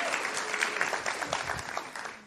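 Audience applause welcoming a presenting team at a food systems conference, steady and moderately loud with scattered claps, lasting a couple of seconds before the next speaker begins.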